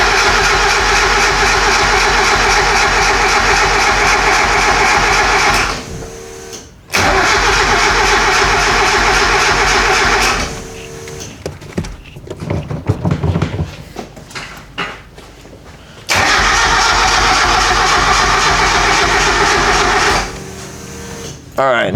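A Mazda 323 GTX rallycross car's turbo engine cranking in clear-flood mode without firing, three long loud bursts of steady starter whine separated by pauses, and a voice talking during the gaps.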